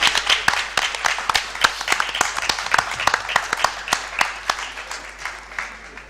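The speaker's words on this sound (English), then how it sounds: "Give a round of applause, please." Sparse clapping from a small audience at an election Question Time debate in St John's, uneven individual claps rather than a dense roar, steady for several seconds and tapering slightly.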